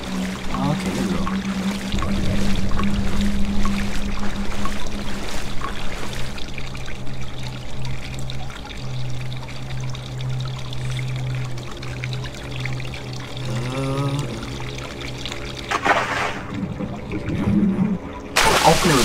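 Water pours and trickles in the horror video game Cry of Fear, a continuous splashing flow with a steady low hum beneath and a voice talking over parts of it.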